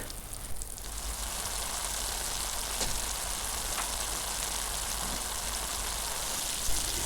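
Steady, dense sizzling crackle of pork frying in a hot pan, continuous and fairly loud throughout with no voices.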